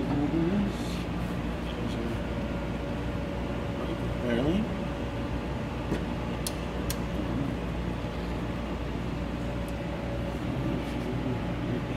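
A constant low mechanical hum of the vacuum pump on a Specialty Coating Systems PDS 2010 Parylene coater runs throughout, steady and moderately loud, with a few faint clicks and a voice briefly audible.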